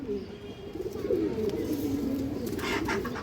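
A large high flyer pigeon with red eyes coos nearby, a sustained low warbling coo that rolls on continuously, with a faint rustle near the end and no talk.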